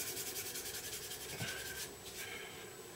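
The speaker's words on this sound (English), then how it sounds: "I've now sanded that join." A worn piece of 1500 grit micro mesh rubs over a join in quick, soft back-and-forth strokes, faint and close with no voices.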